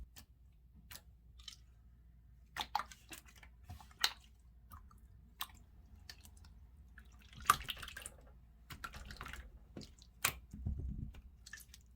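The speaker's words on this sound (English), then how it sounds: "this is like a water slime. It sounds like water, it behaves like water, but it's still a slime" Store-bought water-type slime squished by hand gives wet squelching, clicking and dripping sounds in irregular bursts, fairly quiet and close, with no talking.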